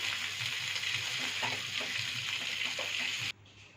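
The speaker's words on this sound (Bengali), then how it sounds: "পেঁয়াজটা দিয়ে হালকা লাল লাল করে ভেজে নামিয়ে নেব। দেখো পেঁয়াজটা লাল করে ভাজা হয়ে গেছে।" Onion frying in oil in a pan for a Bengali rui fish korma, a steady close sizzle with soft stirring scrapes throughout, cutting off abruptly near the end.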